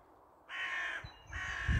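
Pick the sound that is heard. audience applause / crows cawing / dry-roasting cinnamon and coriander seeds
crows cawing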